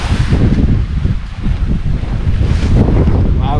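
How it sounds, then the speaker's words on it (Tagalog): Loud, strong wind roars against the microphone in heavy, unbroken buffeting at a campsite during a rainstorm, surging slightly in gusts with no voices. "Medyo malakas yung hangin eh."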